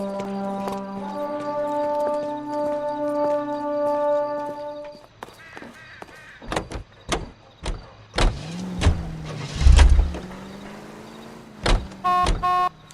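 A 1940s car in the L.A. Noire video game starts up and pulls away. Steady engine drone and mechanical clunks shift into revving and bumps, with game music fading out early on, and no voices.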